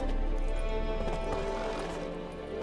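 Horse hooves clip-clop steadily in The Witcher 3 video game, a brisk even rhythm of hoofbeats close by with a faint ambient bed beneath.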